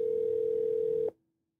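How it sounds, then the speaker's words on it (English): An Allworx Verge desk phone gives a steady, clear dial tone for about a second after its redial button is pressed, then cuts off abruptly into silence. "If I want to redial a call, the redial option is located on the lower right-hand side. Simply press that."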